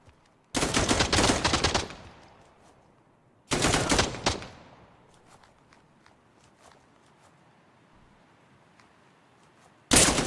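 Automatic gunfire in the video game Dagger Directive comes in two loud sustained bursts, then a fading tail of scattered distant shots and one more burst at the end.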